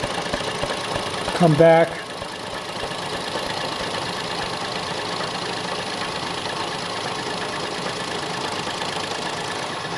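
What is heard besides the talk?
conventional milling machine shaving metal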